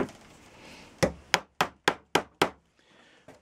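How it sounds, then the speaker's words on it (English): Six sharp wooden knocks in quick, fairly even succession as a chisel is struck and bites into wood, close and loud after a quiet start. "chipping away with your chisel"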